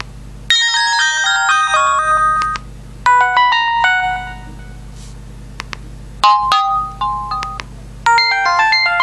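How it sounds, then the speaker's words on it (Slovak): Message tones from a Samsung E1200 mobile phone: several short bursts of bright electronic melody, each a quick run of clean beeping notes separated by brief silences, loud and close with no talk. "Tón správy."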